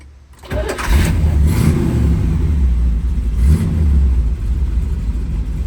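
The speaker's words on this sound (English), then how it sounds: "let's start up this legendary 302 motor" A 1969 Chevy Camaro Z/28's 302 V8 cranks and fires up with a loud rumble, then settles into a deep, lumpy idle with a brief rev.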